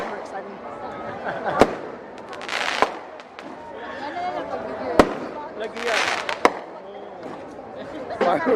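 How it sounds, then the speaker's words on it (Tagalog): Bangs from fireworks at the Sinulog street procession crack out irregularly, a few loud reports among crackling fizz, with a crowd murmuring and a voice speaking briefly throughout. "So fireworks naman. So nanonood tayo fireworks ani."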